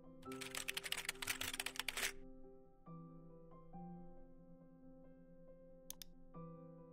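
A password is typed on a computer keyboard as a quick burst of close key clicks for about two seconds, followed by a couple of isolated clicks over a quiet, tonal background hum.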